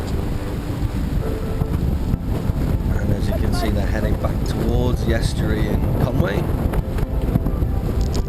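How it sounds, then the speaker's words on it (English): Wind roars steadily across the microphone at a sailing competition, a constant low rumble beneath someone narrating. "Very windy today."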